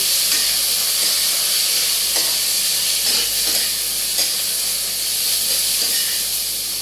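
Food frying in a pan is stirred, giving a loud, close, continuous hiss and sizzle with faint scraping strokes from the stirring, and no one talking.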